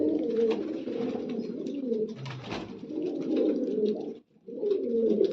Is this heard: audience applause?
no